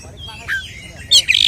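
An oriental magpie-robin (kacer) gives short, sharp chirps and squawky song phrases close by, with noise from the surroundings and a voice talking nearby.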